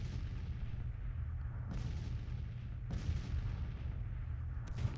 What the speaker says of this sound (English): His guns are coming into play now.